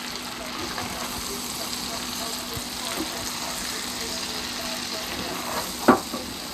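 Steak bites fry in a pan with a low, steady sizzle, faint beneath a background hum, and one brief louder clatter near the end.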